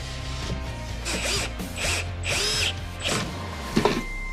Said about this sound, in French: Je perce, je fraise pour noyer mes têtes de vis.